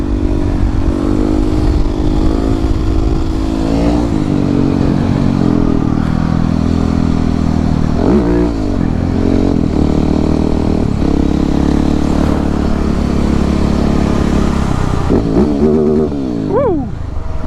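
A Husqvarna 701 supermoto, a 700cc single, revs loudly and close on an icy snowy road during a wheelie attempt, a sustained engine drone rising and falling, with a sharp throttle sweep near the end.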